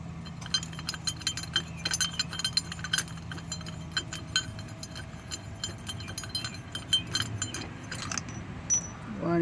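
Metallic clinks and jangles of a 16 mm socket and wrench working on a VW Jetta 1.8T dogbone engine mount, irregular light taps and rattles at close range, no talking.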